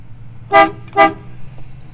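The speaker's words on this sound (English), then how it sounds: "Oh, the horn works. Did you hear that?" Two short, loud horn honks from a 1956 Ford Thunderbird about half a second apart, standing out over a low steady engine hum.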